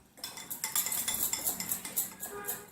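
A spoon clinks and scrapes rhythmically against a bowl while roasted cumin powder and powdered sugar are mixed for fruit raita, with quick, close, bright strokes repeating steadily and no speech.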